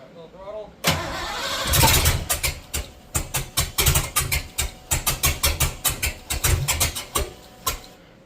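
A car engine fitted with a used Holley Sniper fuel injection system cranks repeatedly on a low battery, a fast rhythmic chugging that surges and nearly catches without running, loud and close, while people talk nearby.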